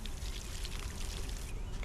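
Water poured onto a stunted watermelon plant in the farming game Solarpunk, a continuous splashing gush held steady for a couple of seconds.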